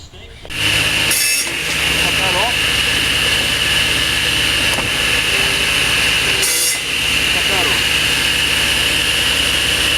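A bat-cupping machine at a Nokona baseball bat workshop runs with a loud, continuous high whine and grinding rasp. Brief bursts of harsher cutting noise break in twice over the steady drone.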